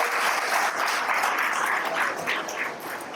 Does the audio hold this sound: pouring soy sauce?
no